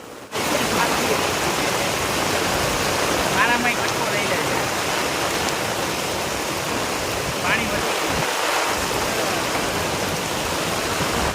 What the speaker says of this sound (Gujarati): વરસાદ હજી એમને ચાલુ જ છે